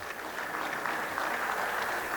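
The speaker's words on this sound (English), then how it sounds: "Clap for us again." An audience at an academy's annual lecture and fellows' induction claps steadily, a soft, even patter of many hands from a distance with no pauses.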